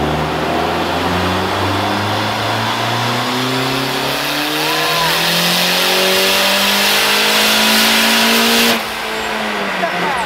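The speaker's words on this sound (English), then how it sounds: "Fire back on the dyno one more time. We're just gonna do a couple pulls" A car engine revs hard on a dyno and steadily climbs in pitch through a long pull, loud and close, then cuts off abruptly near the end.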